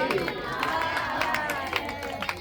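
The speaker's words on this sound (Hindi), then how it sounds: "ताली बजानी पड़ेगी।" Audience at a devotional jagran clapping along in rhythm, a dense ongoing patter of hands over loud music and singing.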